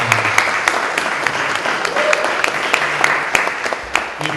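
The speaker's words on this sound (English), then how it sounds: "give Seth and Dara a wonderful applause" Audience applause at a speaker-series event, steady clapping from a crowd throughout, with sharp individual claps standing out over the dense patter.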